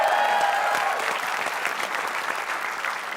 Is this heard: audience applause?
yes